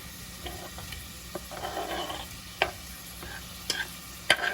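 Sausages fry in a pan with a low sizzle while a utensil stirs and scrapes, several sharp clinks and scrapes standing out over the steady frying; no one speaks.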